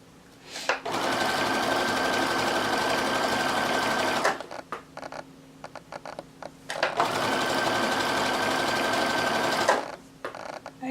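Sewing machine stitching fold over elastic onto lingerie fabric, running in two steady bursts of several seconds each with a whining motor tone, separated by a pause of quieter handling noises.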